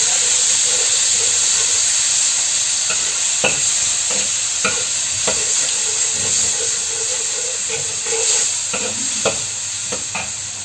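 Plenty of garlic frying in a hot pan hisses steadily while a utensil scrapes and clatters through it in irregular stirring knocks, loud and close, with no talking.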